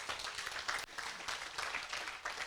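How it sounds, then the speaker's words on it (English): Audience applause at a talk: a steady, dense wash of many hands clapping for a couple of seconds, fairly distant and even, with a brief dip partway through. "quick round of applause for that"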